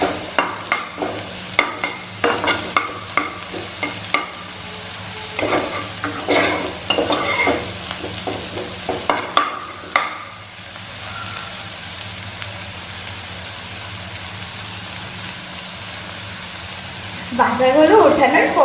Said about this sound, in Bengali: ভাজাটা প্রায় হয়ে গেছে, এবার শুধু লাল করে ফেলতে হবে।